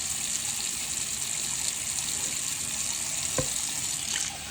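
Tap water pours steadily into a kitchen sink during baby bottle prep, a constant near gushing rush that holds for several seconds, with a brief low knock near the end before the flow eases off.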